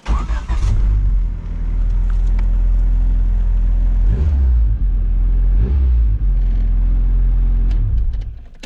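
A turbocharged Honda D16Y7 engine in a Suzuki Vitara build revs hard and loud close by, a heavy, continuous droning roar that swells and dips a few times before cutting off.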